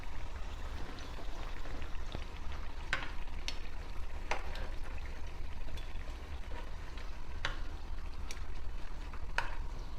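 Homemade chicken nuggets fry in hot oil with a constant fine sizzle, broken by occasional sharp clinks and scrapes of a utensil against the pan.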